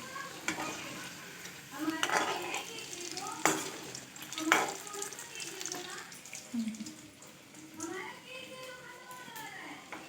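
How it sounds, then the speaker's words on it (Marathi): Momos deep frying in hot oil, a steady bubbling sizzle with scattered clatter and stirring, while people talk intermittently over it. "ते चाललंय तळायचं काम"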